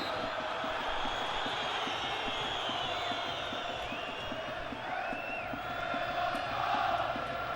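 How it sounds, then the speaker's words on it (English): An unhappy football stadium crowd at Fratton Park, Portsmouth, rumbles with distant jeers and shouts, a broad, steady murmur of many voices that swells slightly toward the end. "Crowd not very happy at all"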